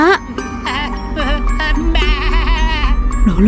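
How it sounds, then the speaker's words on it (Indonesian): Repeated wavering bleats from a goat ring out loud and close, one after another over a low steady hum. "Kok kayak ada suara kambing?"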